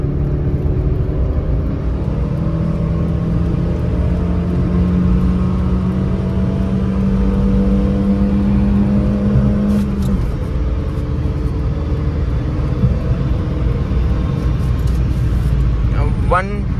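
Hyundai Santro and Maruti Alto cars in a drag race, engines droning steadily with a rising whine as they accelerate, a continuous loud motor rumble with talk over it.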